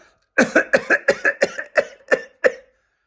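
A rapid run of about eight sharp, evenly spaced coughs bursts out close to the microphone, each short and forceful, then stops, with no talk over them.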